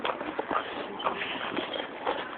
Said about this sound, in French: il y a un cheval qui arrive